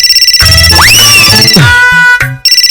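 A mobile phone rings with an incoming call from the groom, a loud melodic ringtone of rising tones and bell-like sustained notes that plays alone over about two seconds, then briefly stops and resumes.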